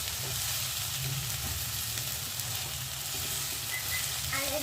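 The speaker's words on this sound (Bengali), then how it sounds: "এইভাবেই আপনারা সাতলাতে সাতলাতে ভালো মতন আরেকটু সময় ভাজা হবে।" Kohlrabi fries in a pan for a ghonto, making a constant, fairly loud sizzle with faint stirring under it throughout.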